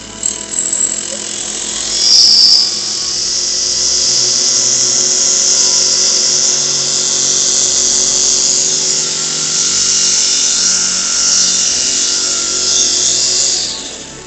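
A brush cutter fitted with a nylon trimmer attachment runs continuously at high revs, a loud steady whine with a brief rev-up near the start and no talking.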